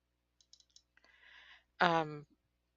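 A computer mouse gives a few light, quick clicks in a quiet room, followed by a soft shuffle and then a short burst of a voice talking.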